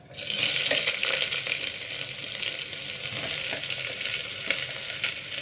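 Steady loud sizzling of onions frying in hot oil, a continuous crackling hiss with no voices.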